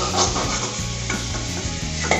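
Potato pieces frying in very hot oil for chicken biryani, giving a loud, continuous sizzle with rhythmic stirring and scraping close by and no talking.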